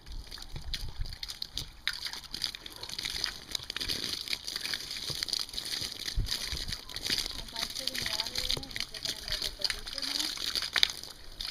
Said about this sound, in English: just blast some water to it in the hopes that I can sort of flush out the sand